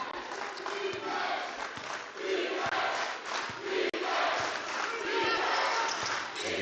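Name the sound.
crowd cheering at a high school basketball game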